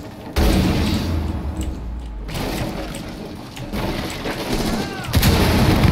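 Heavy gunfire in the game Rainbow Six Siege, loud booming shots and bursts breaking out suddenly, going quiet briefly, then continuing in rapid clusters up close.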